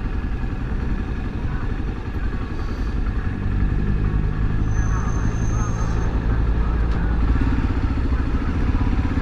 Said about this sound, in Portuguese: Moto 660 cilindradas, bem disposta